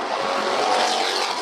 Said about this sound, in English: The 15X is Sean Bowman as he continues to run his way around the Southern New Mexico Speedway